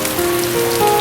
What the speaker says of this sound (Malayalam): ചാറ്റൽ മഴ ശക്തമായി പെയ്യാൻ തുടങ്ങി.